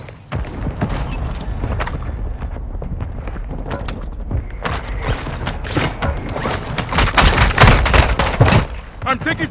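Gunfire in the video game Warzone 2 on Ashika Island: loud, dense bursts of sharp shots and clattering mechanical noise that build toward the end, with a voice briefly heard among them.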